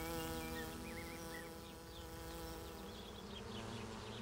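Honeybees swarm with a dense, steady drone, and individual bees whine past now and then over the continuous hum.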